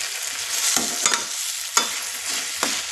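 Tomato, onion and green chili frying in a pan, with a soft continuous sizzle broken by four sharp scraping strokes of a spoon stirring, no talking.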